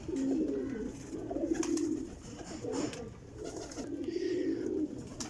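A fancy-tailed pigeon with feathered feet coos in repeated low, throaty rolls, three clear bursts close to the microphone over a steady background hum.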